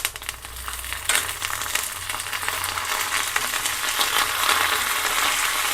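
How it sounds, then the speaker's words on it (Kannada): Curry leaves dropped into hot oil sizzle and crackle steadily in a pan for smoky brinjal bharta, a continuous bright frying hiss close by. "ಇವಾಗ ಕರಿಬೇವು ಸೇರಿಸ್ತಾ ಇದ್ದೀನಿ."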